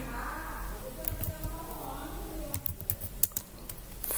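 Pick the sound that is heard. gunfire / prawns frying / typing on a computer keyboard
typing on a computer keyboard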